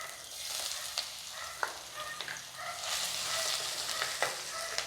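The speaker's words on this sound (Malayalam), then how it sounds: "നമുക്ക് എണ്ണ ചൂടായി കഴിയുമ്പോൾ ആദ്യമായിട്ട് വെളുത്തുള്ളി ഇഞ്ചിയാണ് ഞാൻ ചേർക്കാൻ പോകുന്നത്" Crushed garlic and a little ginger fry in hot oil for a Kerala prawn curry with kudampuli, a soft steady sizzle broken by several scraping stirs and light clinks of a spoon against the pan, close and without voices.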